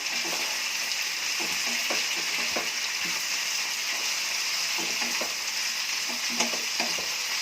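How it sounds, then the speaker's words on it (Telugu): Eggplant pieces frying with tomato and potato in a curry pan, a continuous bright sizzle broken by repeated scraping and clacking of a spoon stirring them around. "తర్వాత వంకాయ ముక్కలు వేసుకుందాము. వేసుకొని ఒకసారి అంతా తిప్పుదాము."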